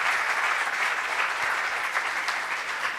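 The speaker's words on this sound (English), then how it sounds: "can we have a big round of applause for" Sustained applause fills a large hall at the BASL 23rd Justa Causa 2026 inauguration ceremony, steady and dense clapping from many hands throughout, with no voices standing out.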